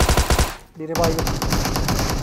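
Rapid automatic gunfire from PUBG Metro Royale while shooting an enemy, with a burst of loud rhythmic shots, a brief pause, then another sustained burst of close, dense firing.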